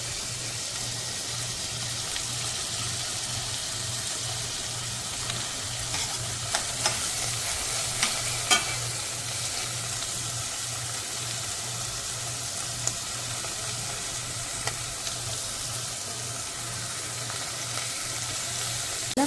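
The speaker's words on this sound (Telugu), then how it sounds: "ఇలా అన్ని కూరగాయ ముక్కలు వేసుకోవాలి." Vegetable pieces frying in a pan, a continuous even sizzle with a faint hum and occasional light stirring clicks, steady and moderate for a long stretch.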